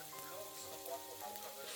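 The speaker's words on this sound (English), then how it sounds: "I take care of bacon so that it renders its fat for frying the sausage" Bacon and sausage fry in a pan with a soft, steady sizzle and crackle, faint and continuous.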